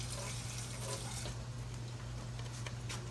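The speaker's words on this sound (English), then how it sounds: "I'm gonna rinse this out a little." Water running from a kitchen tap to rinse pasta in a pot, a steady continuous rushing stream at close range with a constant low hum beneath, with no talking.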